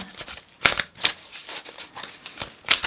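Oracle cards are shuffled by hand, giving a run of quick riffling, flapping bursts, several sharp snaps spread across a few seconds, close and clear with no talking.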